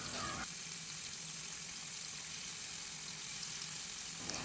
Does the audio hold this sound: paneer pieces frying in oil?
yes